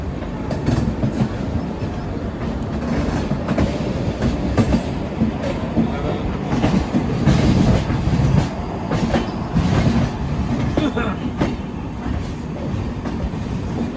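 The Howrah–Kalka Netaji Express runs along the rails, a loud continuous rumble of wagons with rhythmic clickety-clack of wheels over joints, heard from on board with no talk.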